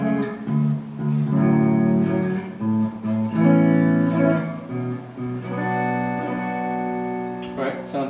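Electric guitar picked with a Dunlop Jazz III John Petrucci Ultex pick, ringing sustained chords and melodic notes up close, loud and continuous with no talking.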